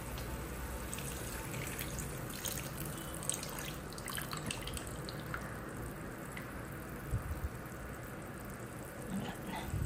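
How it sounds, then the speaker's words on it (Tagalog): Water pours and splashes steadily into a cooking pot as the dish is topped up for more broth, a continuous close trickling with occasional drips, no talk. "Dagdagan pa natin tubig."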